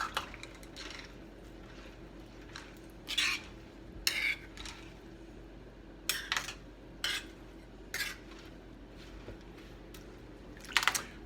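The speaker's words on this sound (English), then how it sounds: "stir it up well" A utensil scrapes and knocks against a pressure cooker while kidney beans are stirred with pork fat, giving irregular metallic clinks and clacks that are fairly close and stand alone without talk.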